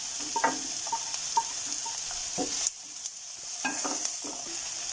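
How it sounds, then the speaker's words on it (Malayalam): Potatoes and green chilli sautéing in a pan for a papadam snack, a soft steady sizzle broken by light spoon scrapes and taps, one sharper knock near the middle. "ഉരുളക്കിഴങ്ങ് ആഡ് ചെയ്ത് കൊടുക്കാം."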